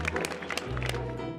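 A crowd applauds at a black truffle auction after a lot is sold, a short burst of clapping over a steady low hum.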